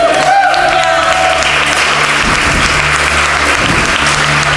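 A church congregation claps loudly for God during a prophecy teaching service, a steady close wash of applause with a low hum underneath.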